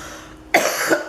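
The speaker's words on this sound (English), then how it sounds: "sorry, I'm still coughing." A single sharp cough from a woman at home during a scrapbooking session, loud and close, starting after a short quiet pause and lasting about half a second.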